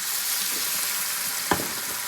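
Leeks fry in a pan for potato and leek soup as white wine goes in, a steady close sizzle broken by one sharp clank of a utensil or pour midway.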